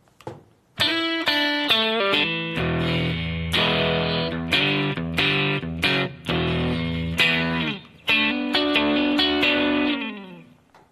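A distorted electric guitar plays a song intro, a series of loud, bright sliding note pairs on the top two strings with a pause near the end before the final phrase rings out.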